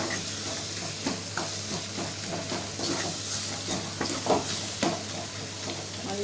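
Onion and tomato frying in oil, with stirring: a steady close sizzle broken by scraping stir strokes and small pops, no talking.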